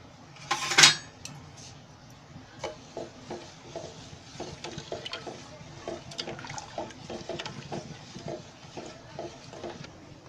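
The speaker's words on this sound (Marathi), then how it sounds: "ही साखर विरघळेपर्यंत आहे ना, विरघळेपर्यंत असं ते ढवळत राहायचं." A spoon stirs sugar in a pan on the stove until it dissolves, giving a soft, regular scraping and tapping rhythm with one louder clank near the start, close and fairly quiet.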